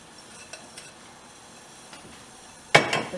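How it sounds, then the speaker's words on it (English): Chopped onion, about four cups, is dropped into a pot for tomato soup, making a sudden loud rustling clatter near the end after a quiet stretch with a few faint clinks. "now we're going to add the 4 cups of chopped onion,"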